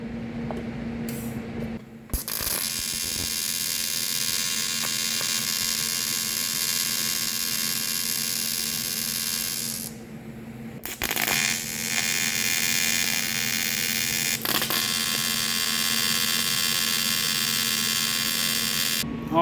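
Tack welding a steel surge tank for a Ford Model A, a steady hissing buzz held for several seconds at a time, broken by short pauses between tacks, close and fairly loud.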